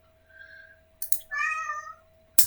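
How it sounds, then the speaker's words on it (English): A cat meows twice, a short call then a longer, louder drawn-out meow, against a steady low hum with a couple of sharp clicks. "That's my cat"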